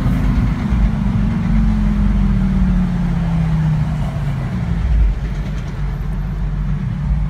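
Twin-turbo Lamborghini Gallardo engine runs with a loud, close, low rumble and a slowly falling tone, continuous for about seven seconds with a few faint crackles.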